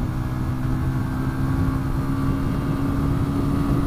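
Lexmoto Michigan 125cc cruiser motorcycle engine running loud and close, a steady buzzing drone with a strong low hum and no talk over it.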